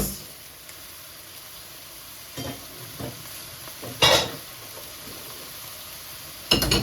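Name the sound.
shallots dropped into a wok, stir-frying and sizzling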